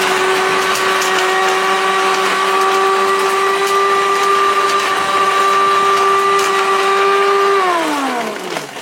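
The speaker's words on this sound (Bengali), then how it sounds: "আচ্ছা, ব্লেন্ডারের কাজ দেখেন" An electric blender runs at a loud, steady high-pitched whine for several seconds, then the motor pitch drops as it winds down at the end.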